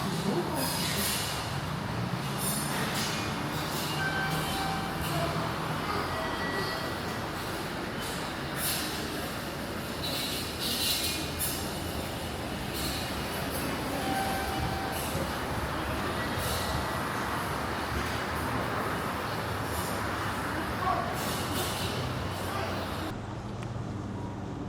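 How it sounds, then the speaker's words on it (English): A train at a Japanese station rumbles steadily and close by for the whole stretch, with faint rail squeal, brake hiss and a few passing voices mixed into the constant noise. "this is my train behind me"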